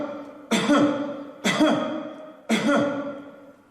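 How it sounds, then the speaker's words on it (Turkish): Three separate coughs recorded close up into a phone for a voice-based coronavirus screening test in Turkey. Each is a sharp, loud burst followed by a short decaying rasp, spaced about a second apart, with no other sound. "Öncelikle sesimizi ve öksürüğümüzü kaydediyoruz belli bir süre."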